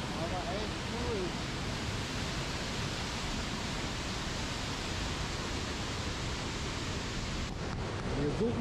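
A rushing waterfall, a steady dense broadband roar that fills the whole clip at constant level with no breaks, heard close by outdoors on a geocaching walk.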